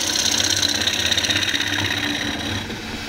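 A spinning wood lathe hums steadily while a bowl gouge takes a shear cut across a turning bowl, giving a close, even, rhythmic whirring scrape that fades slightly near the end.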